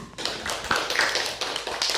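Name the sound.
classroom applause for a student group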